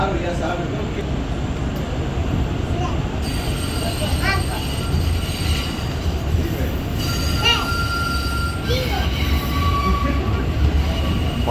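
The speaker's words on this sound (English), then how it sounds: "This train runs above ground, and below there is actually the street." An elevated train runs above a street, its wheels squealing in long metallic whines over a steady loud rumble of the cars, with a faint voice or two under the noise.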